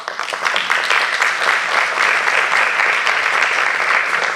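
Steady, dense applause from an audience at a pedagogical conference lecture, loud and continuous throughout with no voices rising above it.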